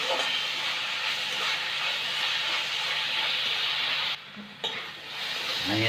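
Onions frying in about three teaspoons of oil for a Goan-style stuffed squid dish, a steady close sizzle and hiss that dips briefly near the end, with faint stirring scrapes.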